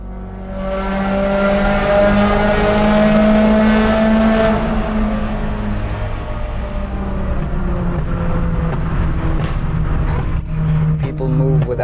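A Renault Clio 1.8 drives on the road, its engine revving loudly with rising and falling tonal notes and a steady road roar up close, while someone talks over it.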